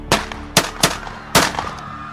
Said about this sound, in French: Des coups de feu retentissent et Colombo s'effondre